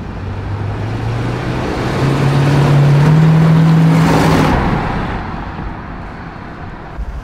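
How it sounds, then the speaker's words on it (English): A Plymouth Superbird is driven, its engine rising in a swell of acceleration and then easing off, heard close and loud over road noise, with no one talking. "It might not be fast, but I'm driving a Superbird right now"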